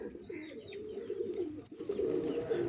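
Pigeons cooing inside a coop, a steady low murmur of overlapping coos from several birds close by, with faint higher chirps above and no talking.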